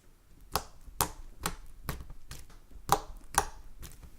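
Handled slime giving off crisp crunchy clicks, a string of about nine sharp, evenly spaced snaps close by against a quiet background.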